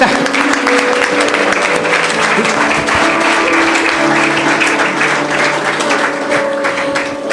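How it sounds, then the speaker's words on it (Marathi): At a foundation day felicitation ceremony, an audience claps loudly and steadily, a dense crowd applause that runs the full length and eases slightly at the end. "जोरदार टाळ्या वाजवत आपण."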